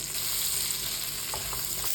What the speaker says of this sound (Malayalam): അതേ എണ്ണയിലേക്ക് തന്നെ ഞാൻ വലുപ്പമുള്ള 3 സവോള എടുത്തിട്ടുണ്ട്, 3 പച്ചമുളകും